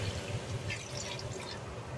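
Water splashes steadily into a pan of pork belly adobo with dried mushrooms, a continuous close pouring and bubbling wash with no talk.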